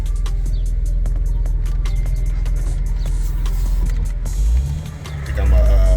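A stage 3 tuned Audi Allroad pulls out of a driveway after sitting for about two years, its engine rumbling steadily with a deep low drone and some clicks. The note swells briefly near the end.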